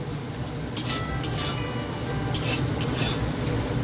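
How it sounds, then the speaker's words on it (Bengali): Bori lentil dumplings fry in a pan with a soft continuous sizzle, broken by four brief scraping stirs of a spoon against metal, close and fairly quiet. "বড়িটা ভেজে নিচ্ছি।"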